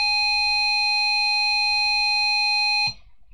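A steady, pure electronic beep tone from an emulated Sinclair ZX Spectrum 48k holds for about three seconds, then cuts off abruptly with a small click.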